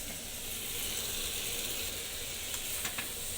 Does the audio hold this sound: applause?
no